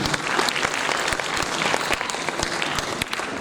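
Warm applause from an audience at an annual day ceremony, many hands clapping in a steady, dense patter with a few sharper nearby claps standing out.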